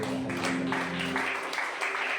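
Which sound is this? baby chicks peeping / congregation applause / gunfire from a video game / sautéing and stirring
congregation applause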